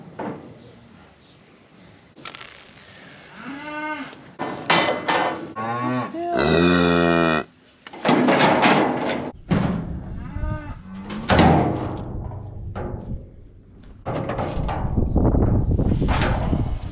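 Adult cattle mooing on winter pasture during spring cattle work, with several loud, drawn-out moos close by, one after another, along with some clanking and knocking in between.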